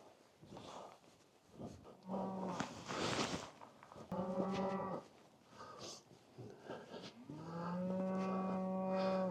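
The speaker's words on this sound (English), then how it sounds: "Symphony of the cows." Several cows moo loudly and at close range in the Lincolnshire countryside, long drawn-out harmonic calls overlapping one another, with a final sustained low moo at the end.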